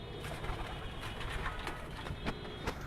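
Pigeons cooing softly and repeatedly over a low background rumble, with brief sharp sounds scattered throughout.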